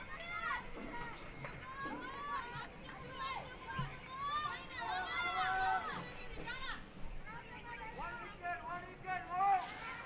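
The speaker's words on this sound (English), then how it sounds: "There we can hear the crowd singing, cheering up." A crowd at a women's T20 cricket match between Myanmar and Bhutan sings and cheers, with many overlapping voices, shouts and chanting rising and falling throughout.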